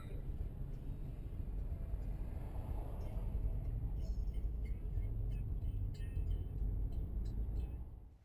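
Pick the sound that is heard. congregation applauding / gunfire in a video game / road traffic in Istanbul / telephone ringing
road traffic in Istanbul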